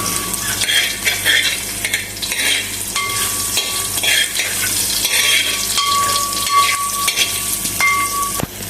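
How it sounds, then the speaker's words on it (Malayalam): Dried red chillies broken in halves being stirred in a pan of hot oil for beef peralan, a loud continuous sizzle with scraping spoon strokes and faint metallic clinks, no talking. "വറ്റൽമുളക് രണ്ടായി പീസ് ചേർത്ത് കൊടുക്കാം നമ്മൾ ചേർത്തിട്ടുണ്ട് ഇനി ഒന്ന് ഇളക്കി കൊടുക്കാം"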